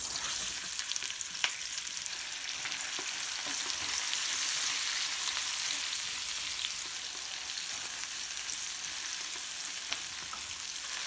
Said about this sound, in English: Saute for about 2 minutes, stirring occasionally.